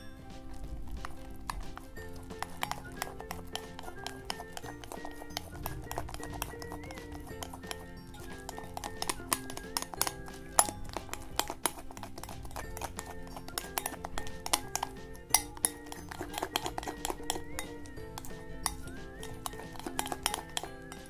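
Slime being mixed by hand, producing a dense run of sticky clicks and wet, crackling pops that keep going at a steady pace, close and fairly quiet.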